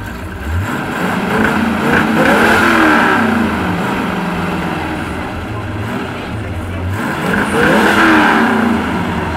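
A Pontiac Firebird engine revs up and down in rising and falling sweeps, throaty and close, at an American car meet, with people murmuring faintly in the background.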